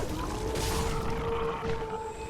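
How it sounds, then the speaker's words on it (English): Wolves in the video game Dark Souls 3 let out a long, drawn-out howl over a steady, dense game soundscape, moderately loud and continuous with no speech. "These things are like straight up wolves."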